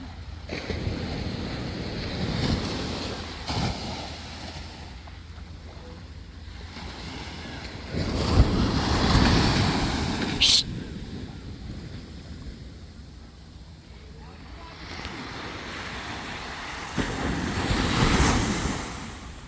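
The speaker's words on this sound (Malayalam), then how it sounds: "കടലിൻ്റെ തെര" Broadband sea waves wash in repeatedly, swelling and receding at a steady rhythm, with wind rushing across the microphone and a faint voice now and then.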